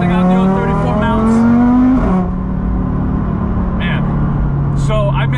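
Audi RS3 on billet engine mounts accelerating hard, engine pitch climbing through a gear then dropping at a shift before settling into a steady drone, with brief talk over it.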